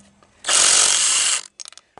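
A ratchet wrench turning 14mm nuts off a Yamaha Warrior 350 ATV, heard as one loud, close, continuous clicking burst of about a second, followed by a few short separate clicks.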